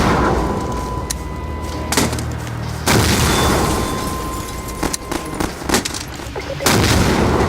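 Gunfire in the GMod Sandbox game during a mock battle: loud, sharp shots in irregular bursts and single cracks, some rapid and rattling, with brief gaps between volleys.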